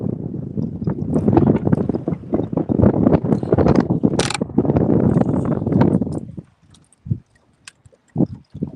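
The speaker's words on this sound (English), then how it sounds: "The wind is just picked up out of nowhere here, which we expected it to." Gusty wind sweeps across Barren River Lake around a fishing boat, a loud, rushing buffet that roars for about six seconds, then drops to near quiet with a few faint knocks.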